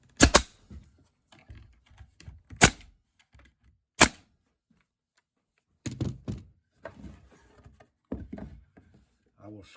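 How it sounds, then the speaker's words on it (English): Brad nailer firing into wooden birdhouse pieces during assembly, three sharp isolated shots, loud and close, with scattered handling knocks and some talk afterward. "I'm going to take a brad shooter and I'm going to shoot these together right here"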